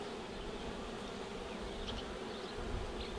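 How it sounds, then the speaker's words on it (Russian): Honeybees buzz around nucleus hive frames in a dense, continuous drone, steady and close throughout with no talking. "есть молоденькая пчелка"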